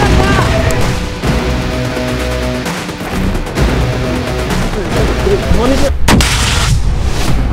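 A loud RPG shot cracks out late in a stretch of rumbling battlefield noise during a company tactical military exercise, with voices mixed in.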